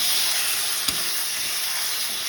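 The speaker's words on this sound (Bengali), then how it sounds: "তো ধনে জিরের গুঁড়োটা দিয়ে দিচ্ছি। দিয়ে একটু নাড়াচাড়া করে নেবো।" Ginger-garlic paste and coriander-cumin powder sizzle steadily in a hot pan for a fish kalia, a continuous loud frying hiss with one brief clink of the stirring spoon partway through.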